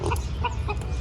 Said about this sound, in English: Is that a funny looking chicken, Scarlett?